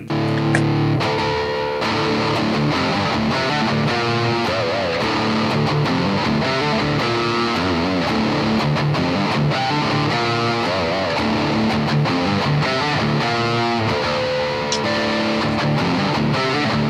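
Electric guitar with a distortion effect switched on, a thick, sustained, saturated tone playing a continuous riff at steady loudness for the whole stretch, with no talking.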